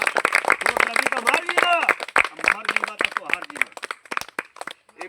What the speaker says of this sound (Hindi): ताली बजावा, इन्हों कुड़ाई भाई।